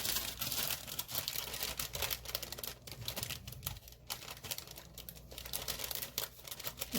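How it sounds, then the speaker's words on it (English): Paper pages in a fitness planner crinkle and rustle as they are moved, a soft, close, continuous crackling with small taps and scrapes throughout. "move this paper so much when I'm filming because it's so loud. It's like crinkle, crinkle, crinkle."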